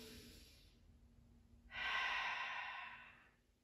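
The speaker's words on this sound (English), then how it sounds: "Holding it, breathing in and out." A slow, audible breath during a gentle seated chair yoga exercise, a soft airy exhale fading out, then a longer, louder inhale-exhale swell, close and alone without talk.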